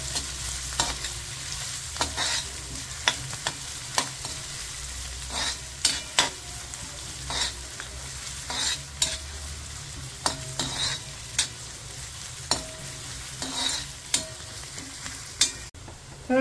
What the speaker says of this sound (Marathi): कांदा जरा आपण परतून घेऊया.